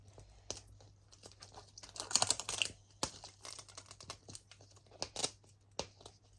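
A plastic pouch is pried open with a pen, giving quiet, close crinkling, tapping and tearing sounds in irregular bursts with sharp clicks.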